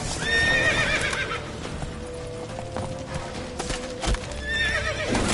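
Horse hooves clip-clop in a quick rhythm in the video game The Witcher 3 on PS4 Pro, with a neigh or whinny near the start and end, loud and close.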